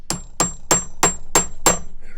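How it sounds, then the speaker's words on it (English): A hammer strikes a punch set into the screw of a Wilton Bullet vise, six sharp ringing metallic blows in an even rhythm, close and loud with no speech. "I'm gonna hit this with a punch here, just so the drill stays somewhat."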